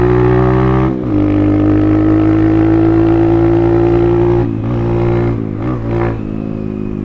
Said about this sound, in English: The bark that this bike has for being a 230 right out of the box, it's pretty awesome.